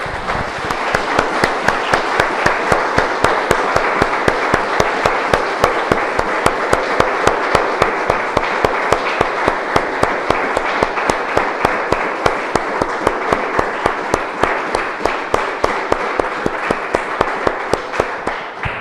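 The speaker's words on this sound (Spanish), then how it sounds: "Damos un aplauso, hermanos, al Señor." A church congregation claps steadily and together for close to twenty seconds: dense, even, continuous applause from many hands, with no voices over it.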